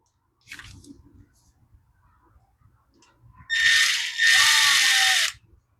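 A power screwdriver drives a screw into an Echo SRM210 string trimmer, with quiet handling clicks first and then a loud close whirring burst that pauses briefly and runs again before stopping.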